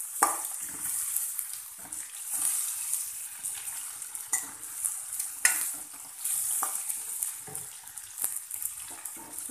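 Ridge gourd sautés in a pan with a moderate hissing sizzle and intermittent spatula scrapes and taps as it is stirred, close by and without speech.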